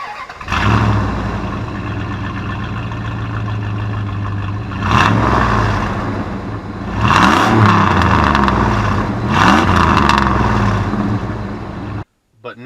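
A 2001 Dodge Durango R/T's 5.9 liter V8 Magnum engine with an exhaust leak and stock muffler starts up, settles into a loud idle, then revs sharply three times before cutting off at the end.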